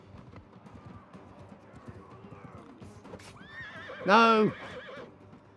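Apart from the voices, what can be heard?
horse neighing and galloping in Mount and Blade 2: Bannerlord video game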